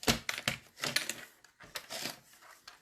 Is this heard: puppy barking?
no